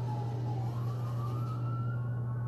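A wailing ambulance siren rises slowly in pitch as it approaches on the Las Vegas Strip, steady and loud over a constant low engine drone, with no voices.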